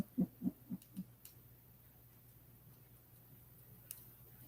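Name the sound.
owl hooting near its nest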